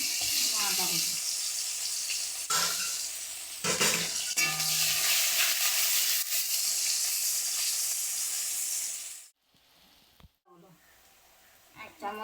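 Garlic and ginger paste with five-spice seeds frying in a pan for rohu fish curry, a loud continuous sizzle with stirring that cuts off abruptly near the end, leaving quiet background.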